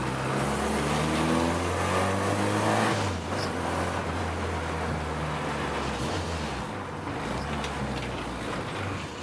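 A Honda K24-powered Honda Civic race car (EG or EK) revs loudly up close, then falls back into a rough, burbling exhaust note that keeps rumbling steadily as it settles.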